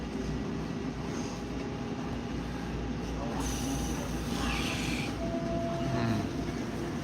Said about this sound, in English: This is the train to Fort Washington.